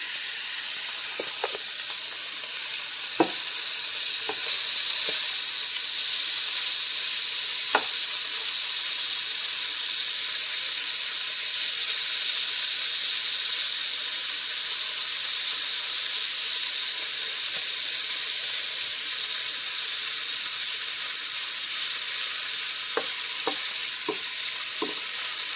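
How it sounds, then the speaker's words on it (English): Vegetables frying in bacon fat in a pan, a constant close sizzle and hiss with occasional soft pops and crackles throughout. "Then I'll throw the vegetables in the fat of the bacon."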